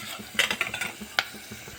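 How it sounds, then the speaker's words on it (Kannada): Urad dal and chana dal frying in a pan: a spoon clatters and scrapes against the metal in quick clinks over a low sizzle, close by, with no voices. "ಉದ್ದಿನಬೇಳೆನೂ ಮತ್ತು ಕಡಲೆಬೇಳೆ ಹಾಕೋಕ್ಕೆ ಚೆನ್ನಾಗಿ ಫ್ರೈ ಮಾಡಿ"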